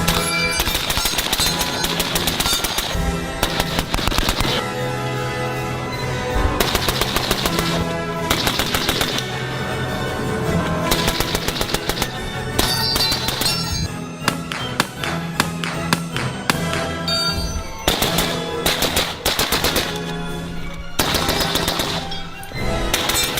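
PSA AR10 .308 rifle firing fast, loud sharp shots in quick strings and bursts with brief pauses between, close up and with no talk.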